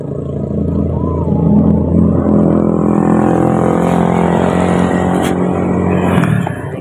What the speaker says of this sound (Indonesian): Ini supermoto 50 cc ya.